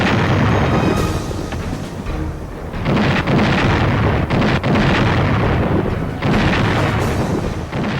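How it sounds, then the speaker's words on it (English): Heavy artillery in the Korean War firing a sustained barrage, loud and continuous with dense rumbling booms and bursts overlapping throughout, a brief lull midway before the pounding resumes. "He ordered an unprecedented barrage of heavy artillery"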